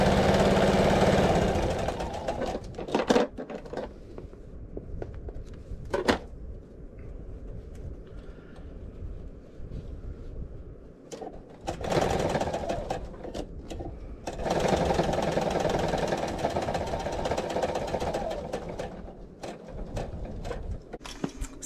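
A sewing machine stitches quilted fabric blocks in fast, steady bursts, with several runs stopping and restarting and brief quiet gaps between them.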